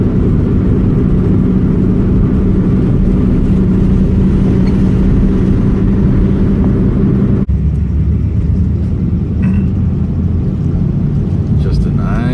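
A 1959 Cadillac Sedan on a relaxed Sunday cruise gives a loud, steady low rumble of engine and road noise inside the car, continuous throughout, with the tone shifting partway through.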